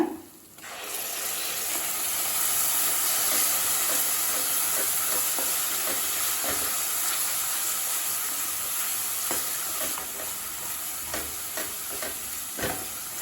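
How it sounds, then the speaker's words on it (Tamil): Onions and ground masala for Hyderabadi chicken masala sauté in oil, giving a steady, close sizzle with occasional scraping clicks from stirring and no voices. "நல்லா எண்ணெய் பிரிஞ்சு வர வரைக்கும் வதக்கிக்கலாங்க"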